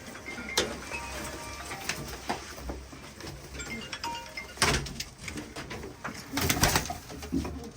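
Purebred forktail play pigeons coo in soft, repeated bursts amid a busy loft in Kızıltepe, Mardin, with wing flutters and scattered rustling noises around them.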